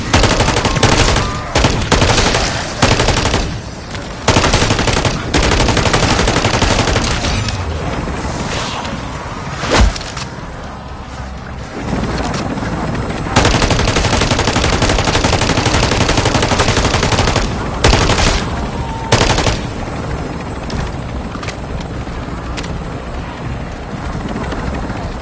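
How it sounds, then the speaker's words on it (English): Heavy automatic gunfire during a Call of Duty MW3 Zombies match on PS5, with repeated bursts over the steady roar of a helicopter, loud and nonstop throughout. "lay down some cover fire"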